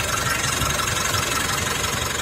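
Diesel engine of a 2017 Mitsubishi Triton idling smoothly, a steady, even rumble with a continuous low hum and no knocking, heard up close without interruption.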